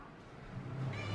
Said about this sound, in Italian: Gatti, dove sono i gatti?